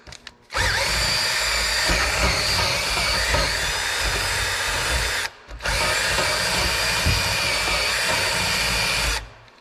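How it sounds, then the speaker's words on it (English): A small wire brush spun by a power drill scours out a bushing hole on a field cultivator, whining loudly and continuously in two long runs separated by a brief pause. "I've just got a little wire brush on a drill here."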